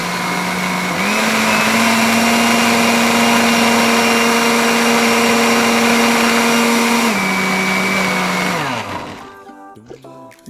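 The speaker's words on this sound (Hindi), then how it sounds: "मैं थोड़ा सा और लाइक आई सेड दूध डाल के इसको ब्लेंड करूँगी।" A blender purees mango with milk into a smoothie, a loud, steady motor whine that shifts pitch once partway through, then winds down and stops near the end.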